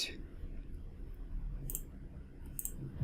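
Mouse clicks while UV editing in Blender: two quick, crisp clicks about a second apart over a faint low room hum, fairly quiet and close.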